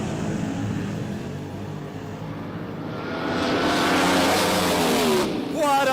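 Loud 1970s Funny Car drag racing engines roar and build sharply as the cars launch off the line, with rising pitch and a commentator talking over the noise.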